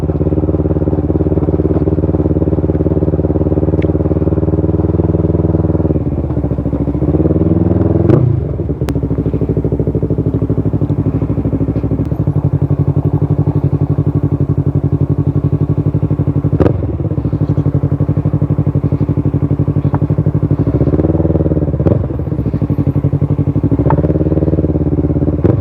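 A motorcycle engine drones loudly and continuously, with occasional bumps, clatters and revving surges as it rides over a rough, uneven road in Davao Occidental, Philippines.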